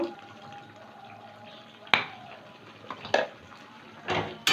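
A spoon stirs raw mustard oil into jhinge aloo posto, a Bengali ridge gourd and potato dish with poppy seed, in a pan, with a few sharp utensil clinks against the pan over a quiet cooking background.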